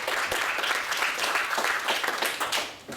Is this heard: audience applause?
yes